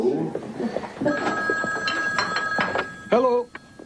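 A telephone bell rings in a home scene from a TV drama, with several bright ringing bursts sounding over and between people talking.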